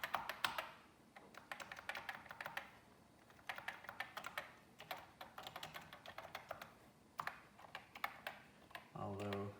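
Bursts of rapid key taps on a Commodore 64 keyboard, some keys working poorly, coming in quick clusters separated by short pauses, close and fairly quiet, ending with a brief tonal sound.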